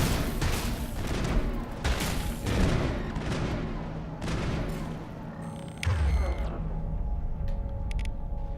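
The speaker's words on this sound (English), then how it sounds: "I thought we were being shot at from behind" Gunfire in the Mass Effect video game: repeated bursts of shots and booming impacts over a dense, loud combat background, with a heavier thud toward the end.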